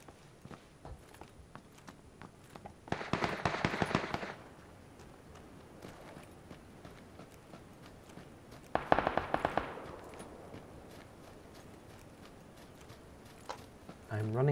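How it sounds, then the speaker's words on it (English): Gunfire crackles in a video game sniping match as two dense bursts of rapid shots, each lasting about a second, separated by quieter stretches of footsteps and small clicks, all heard at moderate volume. "I'm running towards the gunfire."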